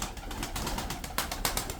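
Tumbler pigeons from Kırşehir cooing softly at close range, with brief bursts of flapping wings cutting through, over a steady rustling background and no talk.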